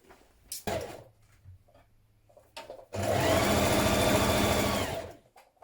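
A sewing machine stitches a yoke onto a dungaree bib: a short burst early on, then a long steady run of close, loud stitching lasting about two seconds before stopping, with no voices.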